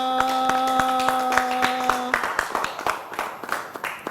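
Clapping from a small audience of children at a New Year greeting, a cluster of sharp handclaps that starts over a sustained musical tone, then carries on alone as scattered, uneven claps.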